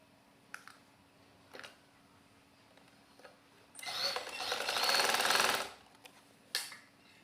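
A sewing machine stitches a seam on a baby frock in one fast, dense two-second burst, preceded and followed by scattered soft clicks and handling taps, no speech.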